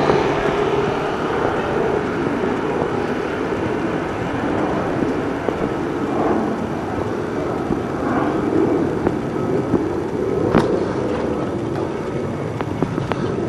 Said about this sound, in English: Plenty of planes taken off.